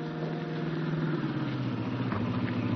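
An old jalopy's engine runs steadily at mid volume, a continuous throbbing rumble with no other sounds over it.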